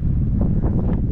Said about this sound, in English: A wee bit windy right enough